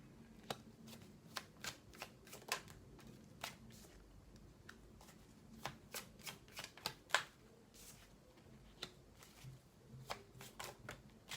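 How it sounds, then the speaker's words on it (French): Tarot cards handled and laid face down on a table, a series of soft, sharp card slaps and flicks in an uneven rhythm, close and fairly quiet, with no voices. "Allez, on va recouvrir ces cartes."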